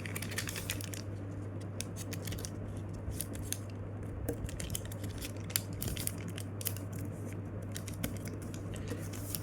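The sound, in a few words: folding a paper origami jet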